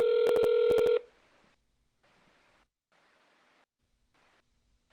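A telephone number is keyed in with a quick run of loud dialing beeps, then a call rings out as a series of faint, evenly spaced ringback tones with silence between them.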